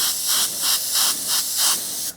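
An airbrush sprays paint onto paper in six short, evenly spaced hissing bursts, close and crisp, with no talking over them.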